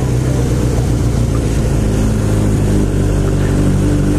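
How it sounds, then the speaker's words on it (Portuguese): A Mercedes CLS 320 diesel car drives past on a town street, a steady loud engine and tyre rumble holding close and even throughout with no voices. "CLS 320 diesel"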